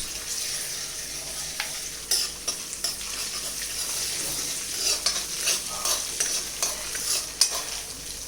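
Green chili and ginger paste sizzling in a pan, a constant hissing fry with scattered spoon scrapes and taps building toward the end.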